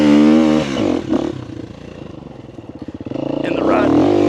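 A dirt bike engine revs loudly and close at the start of an off-road ride, then drops into a choppy, pulsing idle and rises again, while a rider talks over it.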